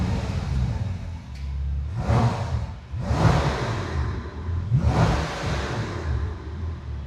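A Bentley Continental GT with its 6.0-litre W12 engine idles at a standstill, a steady low rumble broken by three short revs that swell and fade back, close and alone with no voices.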